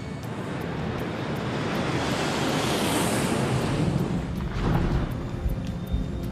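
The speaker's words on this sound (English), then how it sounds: "Copa Airlines Flight 201 takes off for a short flight to Cali, Colombia." A Copa Airlines airliner rolls down the runway at Tocumen International Airport in Panama City, a steady broadband jet roar with wind-like rushing that swells and stays loud for several seconds.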